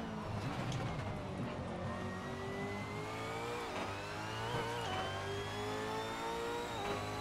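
A V8 Supercar engine in Assetto Corsa hot lapping the Adelaide street circuit holds a loud, continuous high-revving drone, its pitch climbing steadily through gears with small dips, alone without talk.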